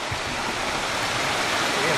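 A mountain stream flows along a hiking trail at Kobotoke Pass in Tokyo, a steady broadband rush of water filling the scene, close and continuous.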